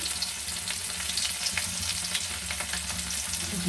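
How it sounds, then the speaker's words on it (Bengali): Chopped garlic and onion fry in oil in a pan, a close, steady sizzle with crackling spits throughout, the stove's low hum underneath and no one speaking. "দিয়ে দিচ্ছি রসুন কুচি, দিয়ে দিচ্ছি পেঁয়াজ কুচি"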